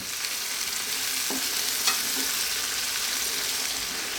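Bacon and mushrooms fry over medium heat in a pan for a pasta dish, a steady close sizzle with a couple of soft stirring scrapes partway through, and no voices.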